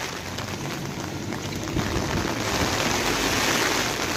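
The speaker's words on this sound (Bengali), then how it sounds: "বৃষ্টি আর বৃষ্টি।" Torrential rain falls on flooded streets, a thick continuous wash of drops that swells slightly louder partway through, nearby and without speech.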